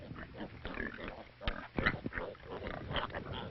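Pigs grunting on a Chinese farm, a run of uneven snorts and grunts with a few louder bursts near the middle, close and moderately loud over steady barnyard noise.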